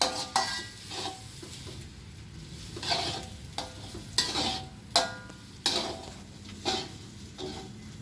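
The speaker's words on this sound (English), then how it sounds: "And then put in the rice into the pan. And we stir it again." Rice for fried rice is stirred in a frying pan, a utensil scraping and tapping the pan in an irregular rhythm over a low sizzle, heard close and alone.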